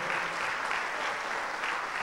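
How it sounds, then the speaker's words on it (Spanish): Congregation at a church service breaking into steady, dense applause that fills the room evenly for a couple of seconds, with no voice over it. "ese aplauso se escucha como que"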